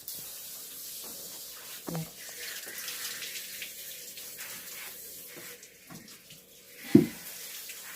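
Warm water runs steadily from a tap into a tub for bathing a poodle, a close hissing flow with occasional splashes and thumps, while people talk quietly.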